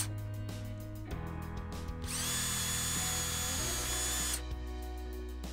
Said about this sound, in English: Next up, drill a few drainage holes.